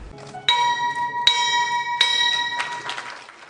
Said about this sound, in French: lorsque retentit le traditionnel son de cloche de la Bourse régionale des valeurs mobilières BRVM